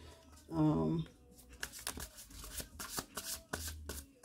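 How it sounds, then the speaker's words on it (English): Tarot cards being shuffled by hand, a short riffling burst up close followed by softer card handling and light taps, with a faint voice briefly in the background. "One last shuffle"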